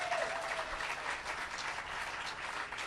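Audience applause for Lin-Manuel Miranda at a groundbreaking ceremony for a new performing arts center in New York, a steady wash of clapping throughout, fairly distant.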